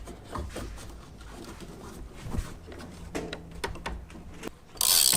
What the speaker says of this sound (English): you're going to use the wrench to tighten it down the rest of the way